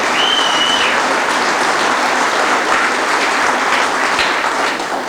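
Loud, sustained applause and clapping from an audience at a Medal of Honor evening event at Fort Chadbourne, a dense continuous wash of hands lasting the whole stretch with no talk.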